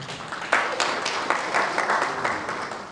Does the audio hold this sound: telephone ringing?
no